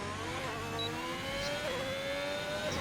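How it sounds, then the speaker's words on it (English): A Ferrari race car in a racing video game, at a Belgium round, screams past with a high, tonal engine whine that dips and then holds steady, loud and close. "The Ferrari driver crosses the line."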